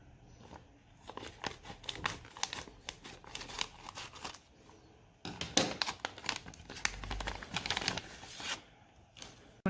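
Plastic packaging of a Vention USB 3.0 hub being cut open, with bursts of crinkling, tearing and snipping that grow louder and busier partway through, close up and without talk.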